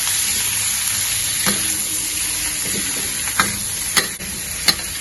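Cabbage being stir-fried in fermented bean curd oil for vegetarian Lo Hon Jai, a steady close sizzle with several sharp scrapes and clinks of the spatula against the wok.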